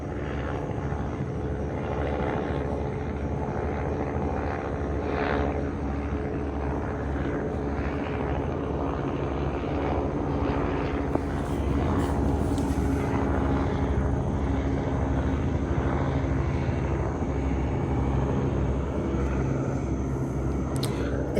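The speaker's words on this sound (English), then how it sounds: "It's so cool to have these helicopters flying around here." Helicopters flying overhead in a residential area: a loud, steady rotor drone with rhythmic chopping pulses that holds throughout, close and unbroken for over twenty seconds.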